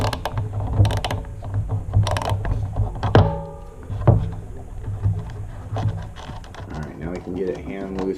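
Screws being removed with a ratcheting tool while fitting a Luna float seat on a Sur-Ron X electric bike, rapid clicking ratchet bursts with metallic clunks, close up, while someone talks throughout.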